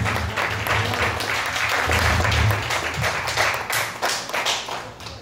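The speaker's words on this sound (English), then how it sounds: "Y'all give a nice round of applause." Audience applause at a spoken-word poetry event, a moderate round of close clapping with a low hum underneath, lasting several seconds.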